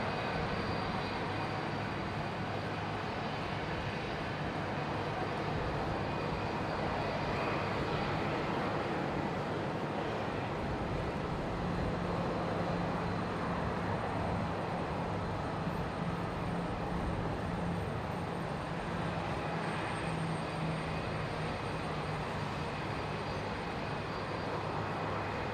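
A Velocity airliner arriving at Brisbane Airport from Sydney produces a steady, distant, broadband jet roar that holds evenly for the whole stretch, with no voices over it.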